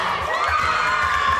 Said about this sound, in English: These middle schoolers are cheering for math.